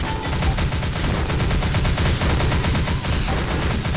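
Dense, continuous automatic gunfire in the video game Critical Mass, a loud, unbroken rattle of shots layered into a steady barrage with no pauses.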